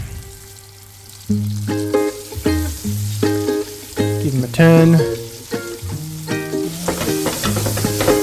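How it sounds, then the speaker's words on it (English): Greek meatballs sizzle and crackle steadily in olive oil in a pan, partly buried under loud, upbeat background music, with a brief spoken remark. "And it's time to sizzle them."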